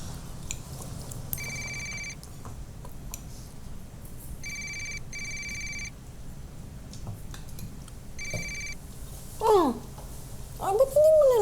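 A telephone rings in three short electronic bursts and goes unanswered, then a voice speaks in Filipino over a faint indoor background.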